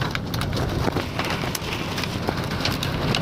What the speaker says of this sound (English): Now we're getting a lot of hail, as you can see, so it's smacking the vehicle